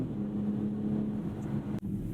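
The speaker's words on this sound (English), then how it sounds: "The exhaust is audibly louder, like very much so compared to the rest of the modes." Inside a 2023 BMW X6 xDrive40i on the move with its active exhaust open, a steady, close engine and exhaust drone fills the cabin, with one brief dip near the end.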